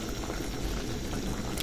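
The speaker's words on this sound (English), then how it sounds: "So I'm gonna let this simmer for like 2 minutes" Liver stew simmering in a pot on the stove, a steady, soft bubbling and hissing that runs without pause, fairly quiet and close with no voices.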